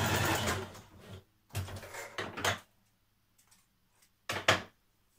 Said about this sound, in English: We're just going to stitch here a little at the top